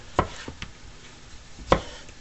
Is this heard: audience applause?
no